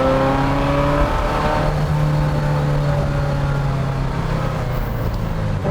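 A Ferrari 348 GTB V8 with a Capristo exhaust revs steadily with rising and falling tones, a continuous close-up exhaust drone with no voices.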